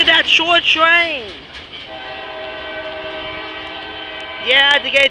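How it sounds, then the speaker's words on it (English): A CSX short freight train at Marion, Ohio sounds its horn in loud blasts at the start and again at the end, with the steady rumble of the passing cars in between. "Take a look at that short train."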